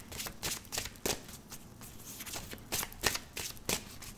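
Tarot cards being shuffled for a 13-card spread: irregular crisp riffling bursts of card-on-card slaps, close and moderately loud, with no talking.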